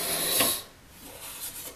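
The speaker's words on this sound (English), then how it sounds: "If I put this back here and blow into the hose," Breath is blown into a hose to drive a wooden air cylinder: a short rush of air and rasping movement, then quieter scraping and shifting close by.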